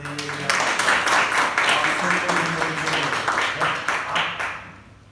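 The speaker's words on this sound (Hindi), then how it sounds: "तो एक बार जोरदार ताली बजाओ" An audience claps loudly in a dense burst of applause that holds steady for several seconds, then fades out at the end, with a voice speaking over the start.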